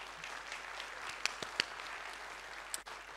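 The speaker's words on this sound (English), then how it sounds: "That's the first round of applause we've had for that video" Scattered, light clapping from a small audience, fairly faint, with a couple of sharper individual claps standing out.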